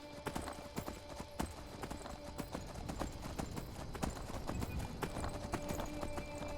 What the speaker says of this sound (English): I'm like just not letting the horse move forward, but it kept running in place